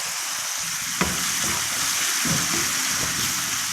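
Minced meat seasoned with salt, pepper, cumin, nutmeg and ginger fries in a pan with a constant bright sizzle, broken by a few soft scraping stirs and light knocks.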